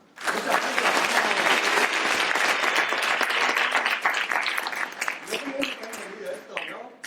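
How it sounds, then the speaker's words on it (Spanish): A conference audience at a psychology of magic event at the Complutense University claps loudly together. The applause is dense and sustained, then thins out toward the end as a few voices come through. "Así que Jesús de la Torre, un aplauso."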